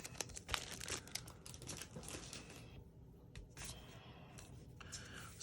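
Card piece slid into cellophane while making a snowman greeting card, producing soft, close crinkling and rustling in uneven bursts with brief pauses.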